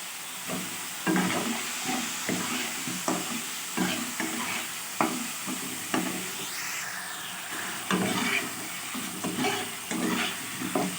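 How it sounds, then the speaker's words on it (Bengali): Potatoes with spices and slit green chilies frying in oil, a continuous close hissing sizzle broken by regular scrapes and stirring strokes of a spatula across the pan. "এবার মশলার সাথে আলুটা আমি ভালো করে কষে নেব দিয়ে দিচ্ছি দুটো চেরা কাঁচা লঙ্কা"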